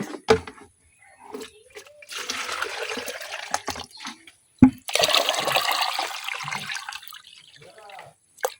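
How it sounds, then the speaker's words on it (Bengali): Water is poured into a pot of rice and lentils for soft khichuri, two long splashing bursts with a sharp knock between them, close by, with someone speaking in between. "নরম খিচুড়ি রান্না করতে হইলে বেশি পানি দেওয়া লাগে।"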